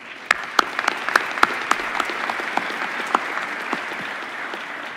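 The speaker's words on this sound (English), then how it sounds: "Let's give them a round of applause." An audience at a December university commencement ceremony gives sustained applause, a dense wash of many hands with a few sharper nearby claps standing out, steady throughout.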